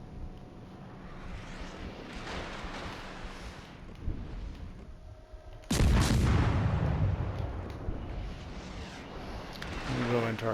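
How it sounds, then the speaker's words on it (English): Naval guns booming in a World of Warships-style video game battle aboard a Furutaka heavy cruiser, with a sudden heavy blast midway over steady engine and wind-like rumble, under continuous talk. "The Pahonix is trying to shoot us."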